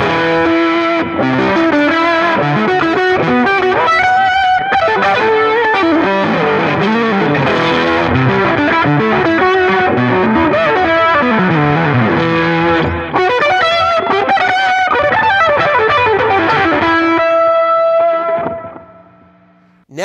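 Electric guitar played through a Supreme amp and effects pedals, giving a distorted tone with chorus and echo. Dense, loud, sustained playing continues for most of the clip before fading out near the end.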